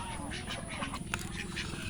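Ducks quack in a rural village setting. Short, nasal calls repeat quickly over a steady, noisy background, with a faint voice nearby.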